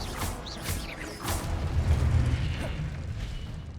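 Expelliarmus is cast in Hogwarts Legacy, heard as quick bursting zaps and booms early on, followed by a rumbling low swell under continuous busy combat noise.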